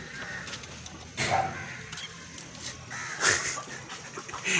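Hens and roosters clucking in a farmyard, scattered calls rising over steady outdoor background noise, with several louder bursts of clucking spaced through the stretch.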